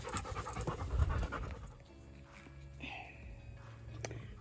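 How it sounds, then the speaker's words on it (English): Dogs pant rapidly and loudly at close range while being fed their dinner outdoors in a garden, the heavy breathing fading after a second or two into quieter ambient sound with faint, brief movements. "We now have happy dogs."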